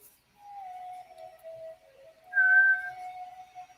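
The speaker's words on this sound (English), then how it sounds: "Oh, the whistle." A steady whistle tone from a 3D printer during an evening hangout, holding one pitch for about two seconds, then a brighter, louder overlapping tone that fades back into the first, with no talking.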